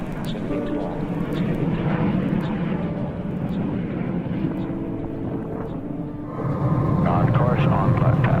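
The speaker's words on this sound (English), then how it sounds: "Evac 40627, cleared for takeoff." Evacuation aircraft on its takeoff roll, a steady loud engine roar that builds in power toward the end, with no speech.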